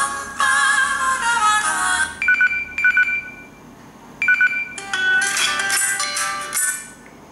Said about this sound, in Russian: Давайте посмотрим, как громко у него звучит динамик